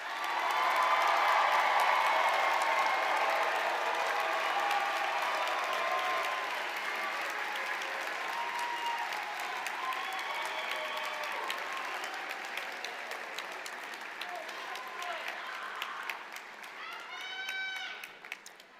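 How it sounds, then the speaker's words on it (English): Sustained applause from a large crowd at a college graduation convocation, steady clapping that gradually thins and fades out over many seconds, with a few voices near the end. "may I have one more round of applause for these wonderful graduates."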